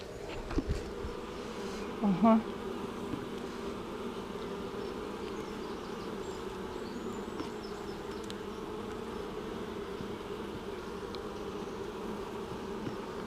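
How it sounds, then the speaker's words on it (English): Honeybees buzzing around an open hive during a spring inspection, a dense continuous drone close by with a few brief knocks early on. "Make sure we have all bees inside hive."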